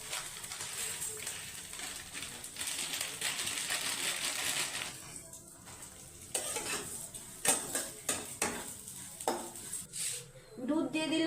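Vermicelli stirred in ghee in a pan for a sweet milk pudding, soft sizzling under intermittent metal scrapes and clinks of a spoon against the pan, close and fairly quiet, with no talking.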